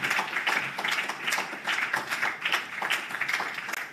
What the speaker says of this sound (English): give our powerhouse, Ms. Ibukun Awoshika, a round of applause.